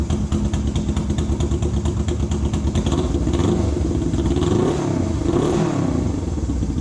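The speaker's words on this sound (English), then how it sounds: "Give it a little bit of gas now that the engine's got some heat in it." A warmed-up 1973 Honda CL350 motorcycle engine with a Hooker 2-into-1 exhaust runs loud and close, idling with a rough throb, then revs up a couple of times before settling back.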